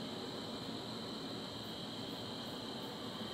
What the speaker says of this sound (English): I always yell at the planes to quiet down, but they never listen.